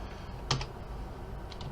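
Computer keyboard keys pressed during 3D modeling work, a couple of quick, soft clicks close by over quiet room hiss, with a second faint pair of taps later.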